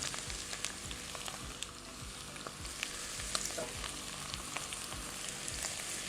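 Broth hits a hot pot of melted butter and sizzles continuously, a dense close frying hiss with scraping stir strokes and small clinks repeating throughout, no voices.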